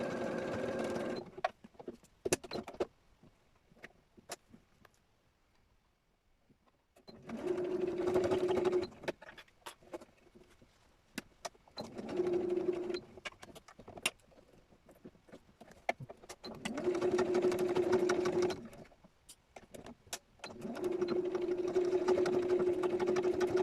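A sewing machine stitches through felt in four bursts of steady whirring, each several seconds long with quiet pauses between, close and moderately loud, with light handling noises in the gaps.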